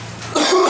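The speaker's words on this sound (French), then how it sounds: "je vais juste me moucher quelques petites secondes" A person blows their nose in one short, loud, close burst of breathy noise after a brief quiet pause.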